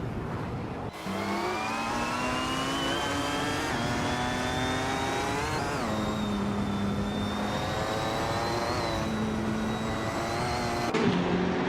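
Race car engines in a racing video game whine continuously, several engines layered together. Their pitch climbs steadily and drops at gear shifts, with no speech over them.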